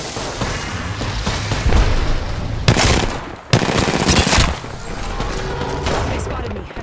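Heavy gunfire in a shooter video game, continuous rattling volleys with sharp louder bursts and booms, loud and close throughout.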